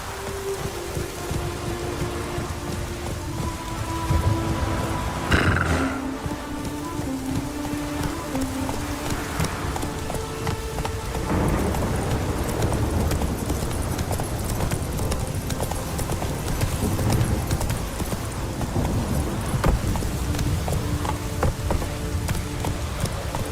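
Roach, the horse in the Witcher 3 Wild Hunt video game, clip-clops along in a steady hoof rhythm over about twenty seconds, with rain pattering on the ground and a brief whinny partway through.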